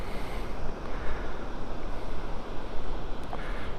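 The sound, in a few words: river water flowing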